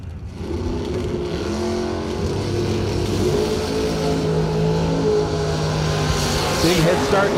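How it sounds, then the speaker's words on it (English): Loud, continuous engine roar from drag racing cars, a 1991 Ford Mustang against a Camaro, with revving and a rising pitch near the end of the run. An announcer's voice runs over the noise throughout. "in his 91 Mustang. Taking on TJ Gravola. And that real sharp looking Camaro right side"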